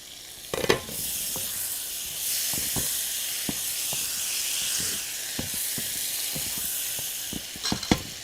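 Shrimp frying in a pan give a continuous bright sizzle and hiss, with periodic scrapes and knocks of a spatula stirring through it, a louder clatter near the start and again at the end.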